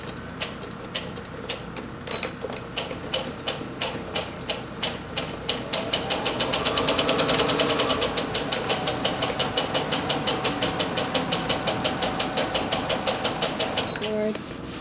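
Sewing machine running a back stitch, a fast, steady mechanical rattle of needle strokes close up that speeds up and grows louder midway; a voice talks over it.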